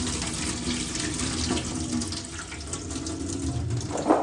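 A kitchen tap runs steadily into a sink while something is washed, a soft, even stream of water with small splashes and a brief louder gush near the end, no one speaking.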